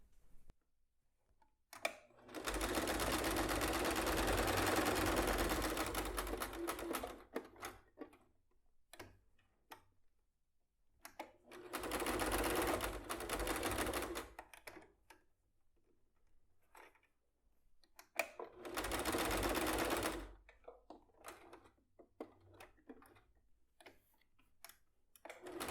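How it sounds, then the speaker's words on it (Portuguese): A sewing machine stitches a bag lining pocket in three loud rapid bursts of clattering stitches, separated by quiet pauses with small handling clicks. "continua costurando até chegar aqui"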